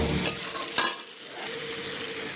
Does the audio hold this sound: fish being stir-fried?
yes